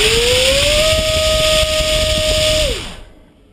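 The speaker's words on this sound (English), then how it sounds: "first test with a 90mm EDF engine" A 90mm electric ducted fan driven by a Turnigy SK3 3659-1900kv motor runs up with a rising whine into a loud, steady high-pitched tone over roaring airflow, then winds down and cuts off at the end.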